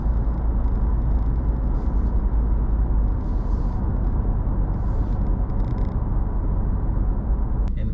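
A 2021 Ford Ranger PX3 on all-terrain tyres cruises along the road, giving a steady, close, broadband rumble of engine and road noise that stays even throughout, with a brief sharp click near the end.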